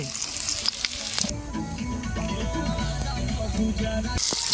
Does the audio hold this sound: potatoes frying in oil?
yes